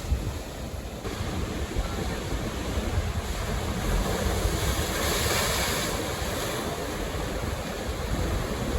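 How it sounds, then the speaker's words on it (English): Ocean waves rush and surge through a gap in coastal rocks in the Margaret River region of Western Australia, a continuous loud roar of churning surf mixed with wind buffeting the microphone, with no speech. "Obviously the waves just crashed through this gap."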